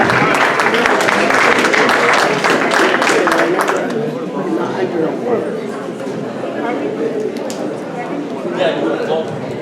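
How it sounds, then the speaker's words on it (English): Audience applause at a Hispanic Heritage Month celebration, a loud burst of many hands for about four seconds that fades into crowd chatter and talking voices for the rest. "So a big applause for them."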